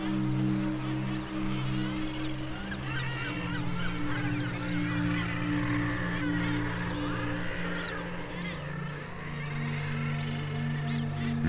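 A seabird colony of common guillemots and razorbills gives steady, dense growling and honking calls, with many birds overlapping close by at constant loudness throughout.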